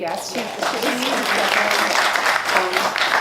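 Applause from an audience at a film Q&A for An Audience of Chairs, a steady wash of clapping lasting the whole moment with voices mixed in.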